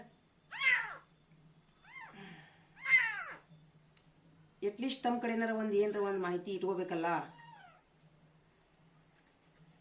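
Three short, high-pitched kitten meows ring out close by, followed by a longer stretch of people talking.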